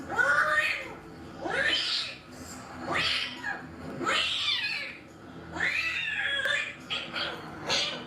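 Angry, feisty kitten yowling in a series of about six long, rising-and-falling cries, loud and close, with brief pauses between each wail.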